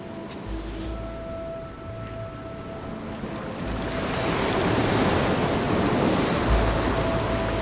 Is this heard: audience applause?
no